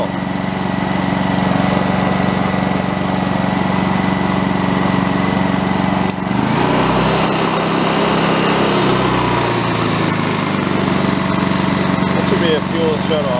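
A Honda EU2200i inverter generator runs steadily throughout, a continuous engine hum with a deeper low rumble entering midway, while people talk nearby over it.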